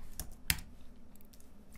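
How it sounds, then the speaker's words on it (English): Two quick keystrokes on a computer keyboard while PHP code is typed, faint and close, followed by lighter taps in a quiet room. "We'll just type this in real quick."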